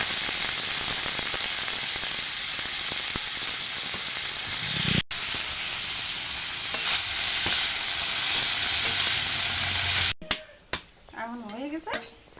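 Shredded cabbage fries in hot oil in a pan with a loud, steady hiss and sizzle. A sharp break comes partway through, and a voice speaks near the end.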